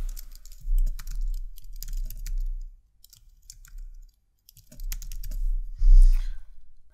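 Fingers type a file name on a Mac keyboard, producing two runs of quick, close keystroke clicks separated by a brief pause, with no voices.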